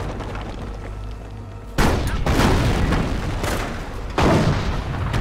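Heavy artillery gun firing in the World War II strategy game Company of Heroes, set in Normandy: two loud booming blasts a few seconds apart, each with a long rumbling tail over steady battlefield noise.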